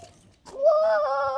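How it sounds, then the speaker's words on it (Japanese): A single sheep at a petting zoo in Chiang Rai, Thailand, lets out a long, wavering bleat, close and clear, after a short rustle. "こちらは羊です。"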